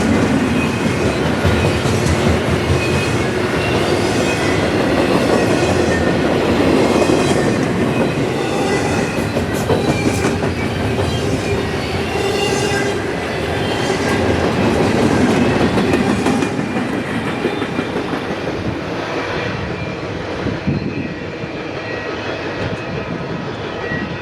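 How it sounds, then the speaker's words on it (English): A long I-136 freight train with no distributed power rolls past near Suffolk, Virginia, loud and close, its wheels clicking rhythmically over rail joints before the rumble eases slightly toward the end. "I was shocked to not find any distributed power on this train"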